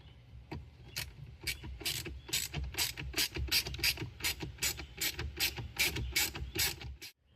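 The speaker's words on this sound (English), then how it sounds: "we've removed the 4 7mm screws that attach the UConnect system to the dash" Ratchet backing out the 7mm screws that hold the UConnect 8.4 infotainment unit in a Jeep Grand Cherokee dash, a fast, even run of close clicking strokes that stops suddenly at the end.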